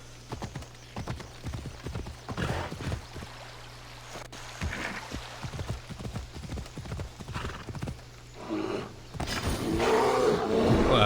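Horse hooves clip-clop in a steady galloping rhythm in the video game Assassin's Creed Odyssey, loud and close, with a whinny-like cry and rising game noise near the end.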